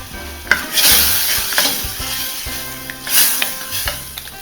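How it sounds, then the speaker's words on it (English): Stock simmering in a pan for a Christmas meal, heard as a steady bright sizzle and bubbling hiss with occasional utensil clinks and stirring knocks, close and fairly loud. "and we'll let it simmer."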